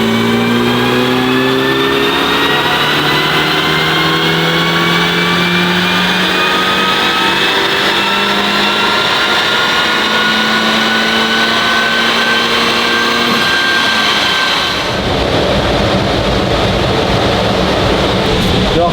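A tuned Audi S1 or Skoda RS hatchback engine revs hard through the gears on a dyno power run, loud rising whine climbing steadily in pitch for a long pull before dropping off abruptly, heard close with no talk.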